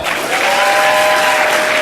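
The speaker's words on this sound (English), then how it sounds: "Clap if you want the exciting one." Audience clapping at a sales training seminar, a short burst of dense, loud applause from a crowd with a faint tonal hum underneath.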